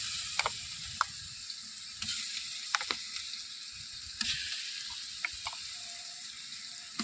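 Ginger garlic paste and onions frying in a pot over an outdoor wood fire, a steady sizzle and crackle with occasional sharp clicks and scrapes from stirring.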